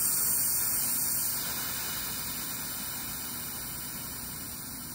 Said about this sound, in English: Push the stem in the center of the Schrader valve to release the air.